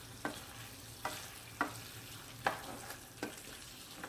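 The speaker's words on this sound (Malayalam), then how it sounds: "പെട്ടെന്ന് തന്നെ ഒന്ന് വഴറ്റണം, അല്ലെങ്കിൽ കട്ടാവും." Chilli chicken is stir-fried in a pan with a low, steady sizzle, while a utensil scrapes and taps about six times at a loose, uneven rhythm, close and fairly quiet with no talk.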